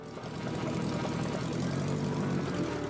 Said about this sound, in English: The sound of the car's engine muffled her murmuring.